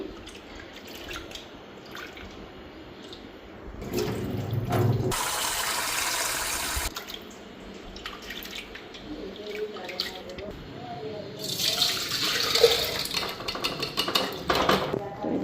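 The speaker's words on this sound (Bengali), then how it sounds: "এই যে ডাল এখানে ভিজাইছি ভালো করে এখন ধুয়ে নিই" Soaked chana dal is rinsed under running water, with a steady gush and splashing plus clinks of a metal pot, while someone talks over parts of it.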